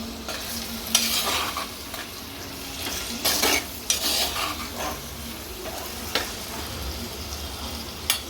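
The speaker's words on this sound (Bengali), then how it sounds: "তখন এর উপর দিয়ে আমি টমেটো কুচি, গোটা কাঁচা লঙ্কা আর গোটা রসুন দিয়ে ভালো করে আমি এটাকে নেড়ে দেব।" Chopped tomato, whole green chillies and whole garlic cloves stirred into handi chicken frying in a pot: a steady sizzle with scraping spoon strokes and a few sharper clanks against the metal, close and continuous, no voices.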